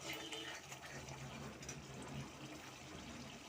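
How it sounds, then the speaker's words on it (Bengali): Water poured from a tap into a cooking pan of browned masala for a green-banana kofta curry, a soft continuous gush and fill running steadily and fairly quietly throughout. "এবার আমি জল দিয়ে দেবো।"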